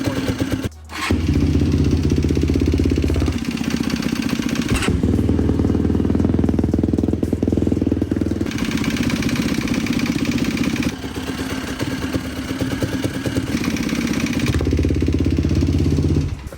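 A Yamaha YFZ450 quad engine runs with bottom-end noise, a loud, close, mid-pitched motorcycle-like drone with clattering undertones. It sounds idling and uneven, with a few revs and dips across the run.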